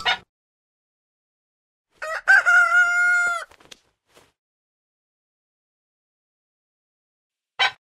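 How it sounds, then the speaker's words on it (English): A single rooster crows once, loud and close, with a rising then held cock-a-doodle-doo, surrounded by brief faint noises and quiet. "The rooster goes cock-a-doodle-doo."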